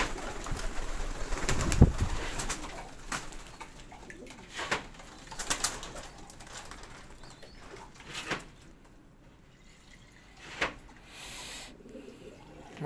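Pigeons in a loft, thirsty since the day before, give soft, low cooing with occasional wing flaps and a few sharper sounds, fairly faint and spread through the scene with no talk.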